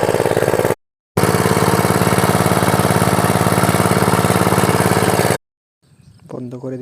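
Engine-driven water pumping machine in a village, running with a steady, loud, rhythmic chugging drone, cut by a short gap and then stopping, followed by quieter nearby sounds at the end.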